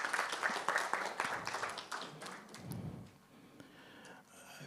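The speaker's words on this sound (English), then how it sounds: "Let's give a combined round of applause to our panelists" An audience at an election seminar gives a round of applause for a panel, faint and somewhat distant, tapering off over a few seconds.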